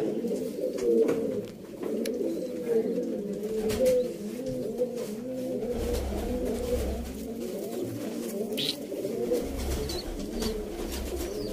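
Sialkoti pigeons coo continuously in low, throaty rolling calls, several birds overlapping close by with a steady murmuring rhythm and a faint background hum.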